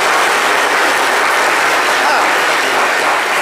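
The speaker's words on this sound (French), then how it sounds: "ça, on va applaudir ce moment" Steady, loud audience applause fills a French live talk-show studio, a dense continuous wash of clapping from start to finish with no pause.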